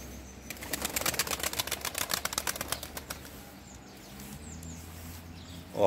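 Pigeons in a village loft flap their wings in a rapid, loud flurry of beats, then settle into softer rustling and faint cooing and chirps, with a sudden close clatter at the end.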